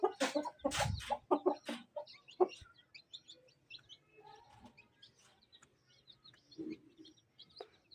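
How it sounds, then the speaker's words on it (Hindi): Chicks in a home bird enclosure chirp and peep in a busy cluster at first, then settle into scattered, fainter calls and rustling. "मस्तियाँ करते रहते हैं पूरा दिन ये चूजे"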